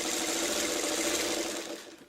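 A sewing machine stitches quilt pieces in a fast, even, continuous whir, close and steady, then slows and fades out toward the end.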